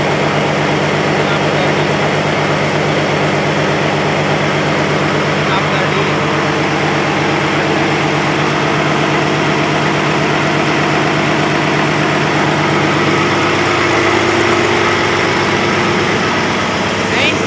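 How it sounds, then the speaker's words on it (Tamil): A ship's generator runs in the engine room, a loud, steady, droning engine roar with low rumble and mechanical vibration that fills the space continuously and up close, with no talking. "இந்த ஜென்ரேட்டர் தான் இப்போ ரன்னிங்கில் இருக்குது. சவுண்டு பயங்கரமாக கேட்கும்."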